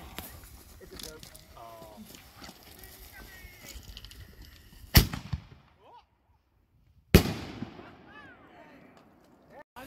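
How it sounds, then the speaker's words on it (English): Fireworks at the Keystone Rail Fest finale burst with two loud, sharp booms a couple of seconds apart, each followed by crackling. People chatter nearby before and between the blasts. "Final fireworks."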